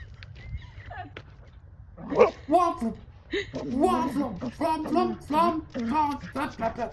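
A dog sliding on ice gives short, sharp barks and whimpering yelps. The calls come in a quick irregular burst after a quiet start, close and clear, with voices faintly mixed in.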